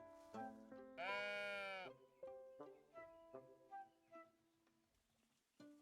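A sheep in a video game gives one loud, drawn-out bleat near the start of a long, wavering cry. Softer game tones and blips fill the rest of the clip, and no one speaks.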